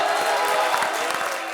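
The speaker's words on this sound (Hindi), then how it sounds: "इसी बात में ठोको ताली।" A studio audience at a stand-up comedy show bursts into dense, continuous applause with some cheering, a full wash of clapping throughout.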